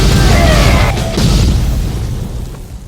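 Explosions boom in the video game Resident Evil Village during a huge battle against Magnet Man while driving a gun tank, dense and loud rumbling blasts overlapping continuously.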